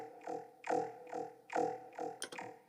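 A liquid ambient riddim bass synth swelling through slow, pulsing notes with a rich, vowel-like wobble, five or six throbbing hits at an even pace, quiet and unaccompanied, with a short bright glitch near the end.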